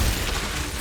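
Confringo and Glacius spells cast in Hogwarts Legacy, a brief dense burst of crackling, shattering blast noise filling the moment, loud and close with no voice.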